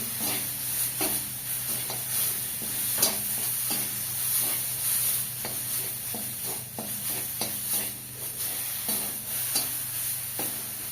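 Spices for mung dal sautéing in a little oil, with a steady close sizzle and frying hiss broken by repeated stirring scrapes throughout.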